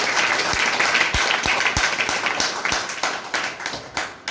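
Audience at a seminar applauding loudly, a dense wash of steady clapping with a few sharp thumps, sustained throughout and gradually thinning toward the end.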